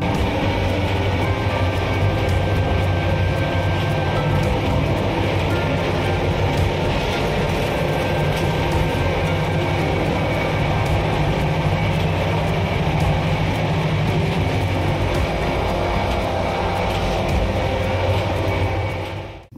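The Shatabdi Express passenger train, Howrah to New Jalpaiguri, runs loud and close with a continuous rumble and roar that stays steady for nearly twenty seconds before cutting off abruptly.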